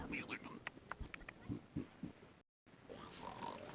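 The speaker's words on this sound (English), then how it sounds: "Three little pigs over here." Cartoon pigs oink and snort in the Living Books game Just Grandma and Me, several short grunts bursting out in quick succession while people talk over them, with a brief dropout near the end.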